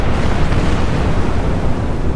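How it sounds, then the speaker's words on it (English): A titanic explosion sound effect in a tabletop fantasy game, heard as a sustained, heavy roaring rumble that fills the space, with no talking. "There is a titanic explosion"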